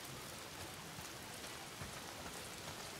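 Heavy rain pours in the zombie survival game Days Gone, a dense, steady hiss of downpour filling the whole stretch with no other sounds.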